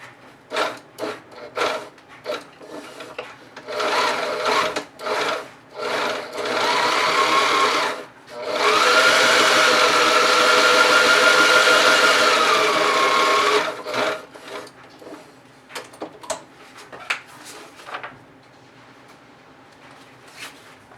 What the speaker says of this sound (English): I'm just going to put another line of stitching on each side of the elastic